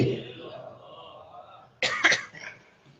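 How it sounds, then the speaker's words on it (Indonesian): A man coughs during an Islamic sermon, with a sudden burst of two or three loud, close coughs breaking in after a stretch of quieter murmuring. "sambil batuk, jadi minta maaf"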